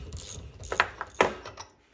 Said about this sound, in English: Now I'll just reverse my socket.